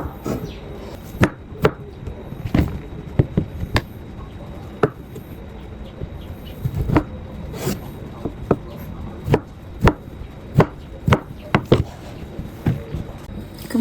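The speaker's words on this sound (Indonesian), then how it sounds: "Kemudian dipotong dua seperti ini, dan kita potong-potong dadu." Knife cutting tofu and tempeh into small cubes on a cutting board, sharp irregular chops in quick bursts with brief pauses, close and clear with no talking.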